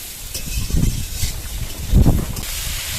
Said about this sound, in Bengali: একটু হাই আঁচে খানিকক্ষণ ভেজে নেব